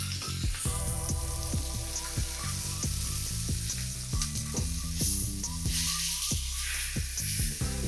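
Chicken skin searing in a hot pan gives a loud, dense, continuous crackling sizzle, with a faint tonal music bed running underneath and no voices.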